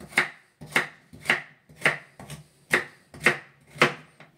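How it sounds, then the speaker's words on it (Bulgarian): A knife chops carrots on a cutting board while a simple vegetable and potato stew is being prepared; seven evenly spaced, crisp chops land close and loud with no talk. "Нарязваме морковчетата."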